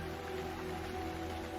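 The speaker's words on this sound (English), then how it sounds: "Acid rain falls" Steady, dense hiss of heavy rain falling on surfaces, close and continuous with no distinct drops or pauses, no voices.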